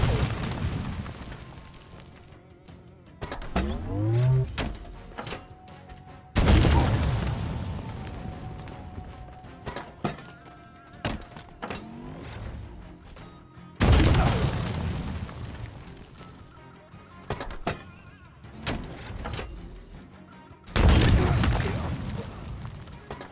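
Rocket explosions in the Halo Infinite shooter game: four loud, spaced booming blasts with rumbling tails, mixed with smaller gunfire pops and game effects between them.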